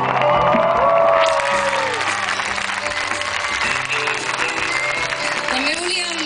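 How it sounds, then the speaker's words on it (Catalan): Audience applause and cheering after a children's performance, loud continuous clapping mixed with crowd voices and occasional shouts, steady throughout. "un aplaudiment molt fort per vosaltres"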